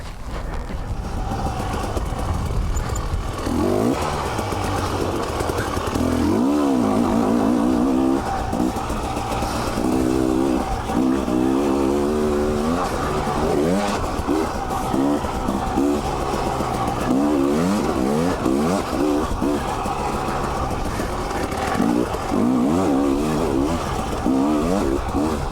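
A 2019 Husqvarna TE300i dirt bike engine revs continuously while riding a rough trail, its two-stroke note rising and falling with repeated throttle bursts through corners, loud and close throughout.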